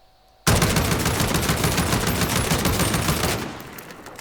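Heavy-caliber automatic weapon firing in Call of Duty Warzone, a loud sustained burst of rapid shots that begins abruptly and runs for about three seconds before cutting off, with no talk over it.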